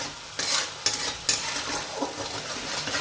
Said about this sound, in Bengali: লবণ চিনি দেওয়ার পর পেঁয়াজ রসুন আদা বাটা পেস্টটাকে একটু নাড়িয়ে নিচ্ছি